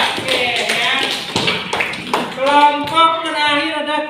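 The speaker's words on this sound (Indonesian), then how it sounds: "Beri tepuk tangan untuk kelompok 2" A classroom of students claps for group 2, a dense patter of hands running for a few seconds while voices talk and cheer over the end of the applause.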